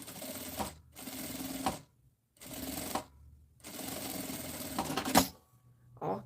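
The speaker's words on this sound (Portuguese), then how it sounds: "passa a costura" A sewing machine stitches lining fabric for a small double bag in four loud, steady whirring runs separated by short pauses, then a brief final burst.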